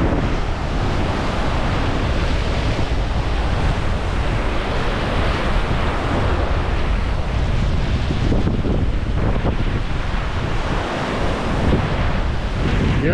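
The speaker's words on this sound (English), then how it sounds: "wind's blowing" Strong wind roars across the microphone while waves on Lake Michigan surge and break continuously on the shore in Door County, Wisconsin, loud and unbroken throughout.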